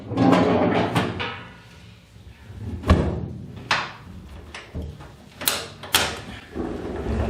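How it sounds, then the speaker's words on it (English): Metal drawer on a Grizzly shop vacuum in a workshop sliding and banging, a series of short scraping thumps and clacks at irregular intervals, fairly close. "It's got a drawer."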